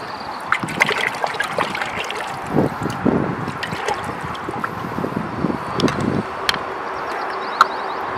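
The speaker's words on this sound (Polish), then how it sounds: "Pierwszą z tub zalejemy czystą wodą." Clean water is poured into a tree planting tube, giving a series of irregular trickling and splashing sounds of moderate loudness, close by, with soft knocks in between.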